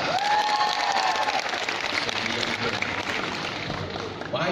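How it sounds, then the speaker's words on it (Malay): Audience applause for the KH school alumni at a talk with Cikgu Sidek Saniff: a crowd clapping steadily with some cheering, a voice briefly audible at the start, the clapping thinning toward the end. "Satu tepukan untuk KH"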